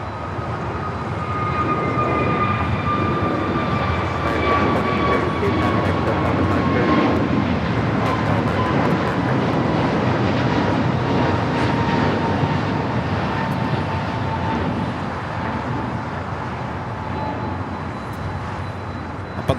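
A Japan Airlines Dreamliner jet on short final for runway 24 right at LAX, a steady engine roar with a high whine that slowly descends in pitch as it passes, fading slightly near the end.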